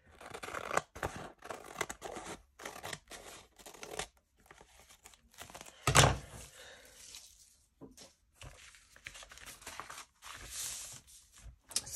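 Paper being trimmed with scissors while preparing gel-print master boards from book pages: repeated crisp snipping cuts in irregular bursts, close and fairly quiet, with one louder rustling cut near the middle and no talking.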